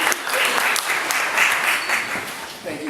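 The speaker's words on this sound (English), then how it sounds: "Let's all give them a round of applause." An evening business-class panel audience gives a round of applause, a moderately loud, continuous patter of many hands that tapers off toward the end.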